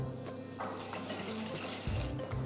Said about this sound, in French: On mélange à l'aide d'un fouet.